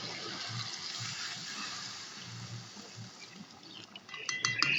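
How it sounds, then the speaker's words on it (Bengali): Water is poured into chicken curry simmering in a pot, a steady liquid splash and rush running throughout at close range, with a brighter clatter near the end. "এবার আমরা জল দিয়ে দেবো।"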